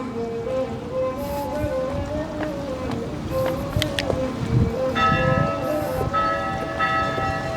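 A church bell rings at a distance near a hotel in Padang, several strokes rising over steady street and traffic noise and a faint voice.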